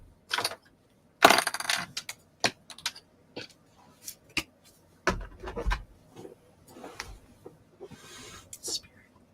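Oracle cards are set down on a table one after another, giving a run of close, crisp taps, slaps and brief rustles at an irregular pace, with a voice now and then.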